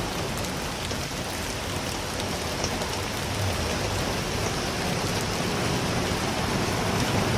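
A downpour in Singapore keeps up a thick, even hiss and patter of heavy rain on surfaces nearby, loud and steady with no pauses.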